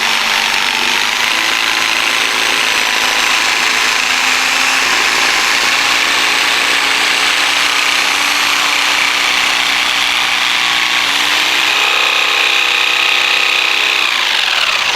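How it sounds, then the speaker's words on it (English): A jigsaw cuts a profile into wooden crown molding to cope a joint, its motor buzzing steadily and loud for the whole stretch, the pitch shifting slightly as the blade turns along the curve. "coming up from the back side, once you reach your profile, you want to turn the jigsaw"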